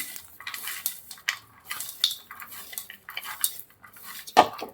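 Onion and spices for Maddur vada being mixed in a bowl, a busy run of metal spoon scrapes and clinks against the bowl, close and fairly loud, with no talking.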